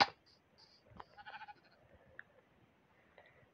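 A sheep in the video game Minecraft gives a few soft, short bleats in a quiet game scene, with small clicks and blips scattered between them.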